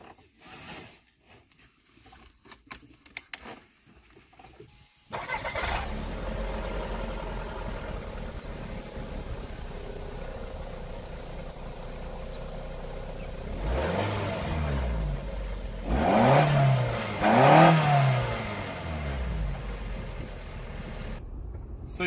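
A 1992 Toyota Celica GT-S hatchback fires up and drives off, its engine settling into a steady mid-pitched drone with a couple of rising revs later, close and continuous with no talking over it.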